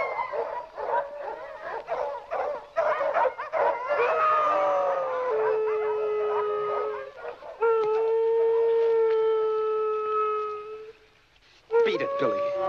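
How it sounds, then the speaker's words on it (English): Several dogs howl and bark in a 1948 film scene, with yips and rough barks giving way to long wavering howls that fade and then start up again. They are loud and fairly close. "Don't know what's bellyaching those dogs."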